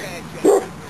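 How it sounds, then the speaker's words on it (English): One short dog bark, close and loud, cutting through indoor background noise. "dog's going mad again"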